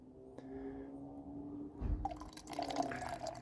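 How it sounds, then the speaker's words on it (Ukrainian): Water poured into a Fire-Maple camping kettle outdoors: a thin trickle first, then a heavier splashing gush as the stream hits the pot, close and fairly quiet. "Наливаю, ну так, до відмітки 1 літр, не більше щоб воно потім спокійно собі там кипіло"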